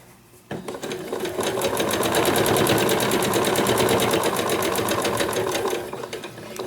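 A sewing machine stitches around a quilt block at a steady fast pace, its rapid mechanical chatter running loud and close after a brief quieter start.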